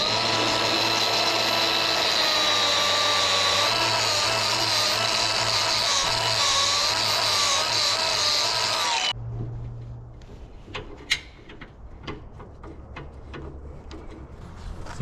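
A power drill bores loudly and continuously into concrete for anchor holes. The drill stops partway through, leaving quieter clanks and handling noises of the work site.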